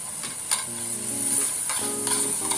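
Pork, bamboo shoots and holy basil sizzle and are stirred and tossed in a wok, with several metallic scrapes and clanks over a steady frying hiss.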